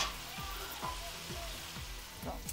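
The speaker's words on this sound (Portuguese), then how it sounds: "Então nós vamos adicionar e vamos fritar nossos bacon" Bacon fries with garlic in a pan for risoni carbonara, a faint, steady sizzle with light crackle and soft stirring taps, no voices.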